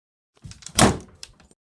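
A door slams shut at a brick house: one heavy, close thump with a few lighter knocks and rattles around it, with no voices.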